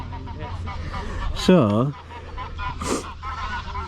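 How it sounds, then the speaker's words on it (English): Geese honk loudly at a fishery during the mating season, with one prominent close honk and a fainter call after it, over outdoor background noise and brief speech. "Look, they're off again, these geese."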